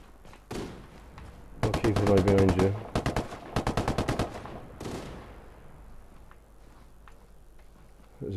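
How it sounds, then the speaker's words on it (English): Sniper rifle shots in a Ghost Recon Wildlands Ghost War match, sharp cracks in a few clustered volleys and single reports, loud and close, with brief voice chat around them. "Sounds like three snipers"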